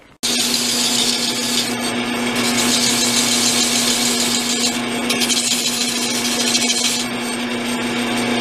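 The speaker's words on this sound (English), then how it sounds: "I'll take this off to the drum sander on the drill press and get all this smoothed" A drum sander chucked in a drill press smooths a wooden neck for a homemade coffee-can guitar, giving a loud, steady abrasive whir with a constant motor hum that runs unbroken for several seconds.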